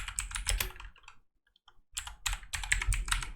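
Rapid clattering keystrokes on a computer keyboard, close and crisp, break for a short pause and then resume in a quick burst.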